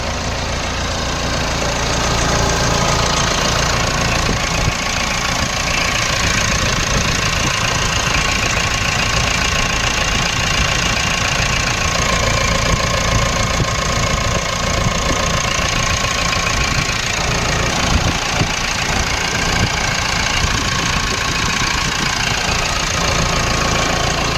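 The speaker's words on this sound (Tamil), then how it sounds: "இன்ஜினோட நாய்ஸ் கேட்டிருப்பீங்க" A Mahindra Scorpio engine idles steadily and close by, a constant low rumble with a faint knocking texture running unchanged throughout.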